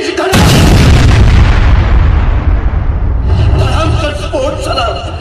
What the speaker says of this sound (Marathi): स्फोट झाला